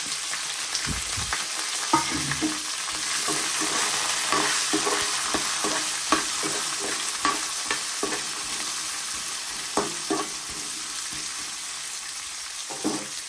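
Ingredients, including large-cut green chillies, fry steadily in hot oil, a continuous close sizzle broken by repeated scraping and clattering as they are stirred in the pan.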